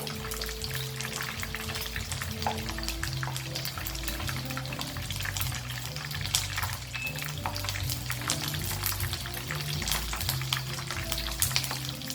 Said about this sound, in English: Frying it slow medium flame, it will help the chicken to get nicely cooked